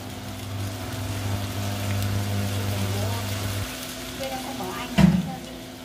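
Sturgeon pieces stir-fried with pineapple, onion and tomato in a pan give a steady close sizzle with a low hum underneath, ending in a brief clatter near the end.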